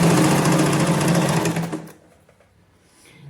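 Sewing machine stitching palazzo pants runs in a steady, loud buzzing whir for nearly two seconds, then stops abruptly, leaving quiet room tone.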